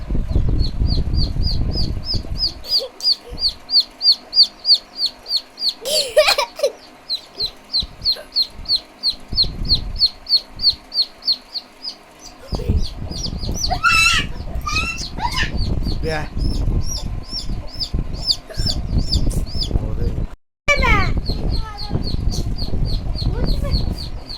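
A chicken clucks loudly and beats its wings in flurries while being grabbed and handled, amid rhythmic squawks and background birds, with someone speaking over parts of it.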